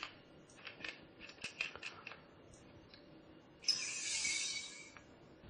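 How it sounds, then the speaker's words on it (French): Gas from a cream charger cartridge rushing into a whipped cream siphon filled with cream, a loud steady hiss starting partway through after a series of quieter clicks and taps. "Vous entendez le gaz qui s'échappe dans le récipient."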